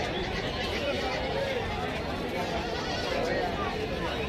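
Goats bleating at a busy riverfront livestock market on a Sunday, with steady crowd chatter and voices around the animals throughout.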